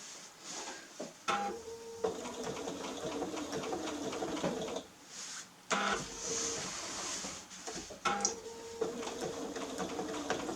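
A sewing machine free-motion stitches fabric for quilting, its motor running in bursts of whirring stitching separated by short pauses as the fabric is turned.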